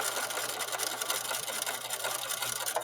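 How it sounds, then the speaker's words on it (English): A sewing machine runs steadily through fabric, giving a continuous close mechanical whir with a low motor hum underneath. It does not stop for the whole stretch. "and I continue sewing."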